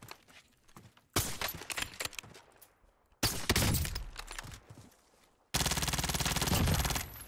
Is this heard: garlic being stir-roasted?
no